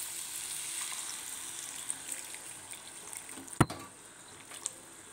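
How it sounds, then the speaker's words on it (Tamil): A cup of water is poured into drumstick poriyal cooking in a pan, giving a steady sizzling, liquid hiss with one sharp clatter partway through. "நான் வந்து இன்றைக்கி ஒரு கப் அளவுக்கு தண்ணி சேர்க்க போகிறேன்."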